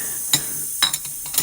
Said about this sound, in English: Listen to the dishes being done.